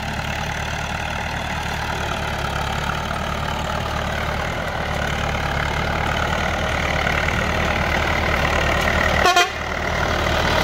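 A steady El Nasr 60 tractor engine from 1979 idles close by, rumbling evenly throughout, with a brief louder burst near the end.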